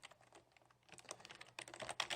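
Code typed on a computer keyboard, quick uneven bursts of soft key clicks, quiet and close, sparse at first and then denser.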